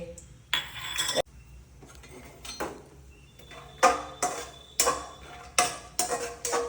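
Peanuts roasting in a pan are stirred with a metal spoon, giving sharp clinks and rattling scrapes in uneven bursts separated by short quiet gaps.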